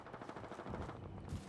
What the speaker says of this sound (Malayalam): ആ വെടിശബ്ദം കേട്ടിട്ട് പോയി എന്തെങ്കിലുമൊക്കെ ചെയ്യാൻ തോന്നും.